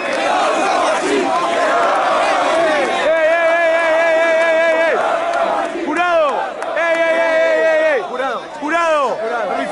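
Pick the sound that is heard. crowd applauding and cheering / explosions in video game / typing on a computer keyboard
crowd applauding and cheering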